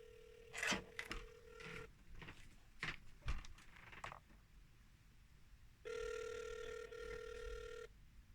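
An outgoing telephone call rings back through the earpiece as two long, steady tone bursts separated by a pause of several seconds. Soft handling clicks and knocks come before the first ring.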